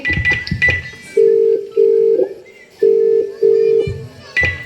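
A phone line rings unanswered in repeated double tones after a few quick dialing beeps, loud and close, with faint speech at the start.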